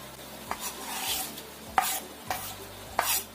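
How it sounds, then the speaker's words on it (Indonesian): A spoon stirs chili into a simmering sauce in a pan in a few sweeps, with soft sizzling and occasional scraping clinks against the pot, close and steady. "Sudah kita masukkan cabenya, kita aduk sebentar."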